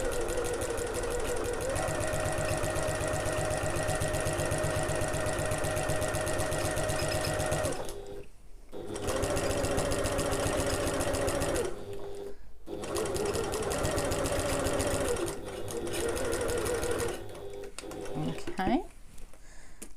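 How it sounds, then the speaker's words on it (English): Sewing machine topstitching about 3 mm from a backpack seam, a loud, continuous close whirring run broken by a few short stops, with brief talk near the end. "I'm going to sew 1/8 of an inch or 3mm away from the seam"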